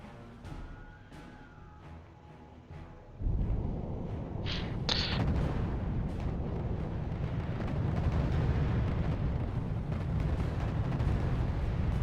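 Artillery guns firing in the RTS game RUSE, a sustained low rumbling barrage that swells after a quieter start, with a couple of brief sharp cracks layered over the dense booming roar.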